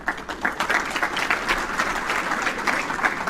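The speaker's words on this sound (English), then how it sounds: "You guys give them a round of applause." Crowd applause at a Livonia Churchill Chargers football banquet, a steady burst of many hands clapping in a hall for a few seconds, fairly close and even in intensity.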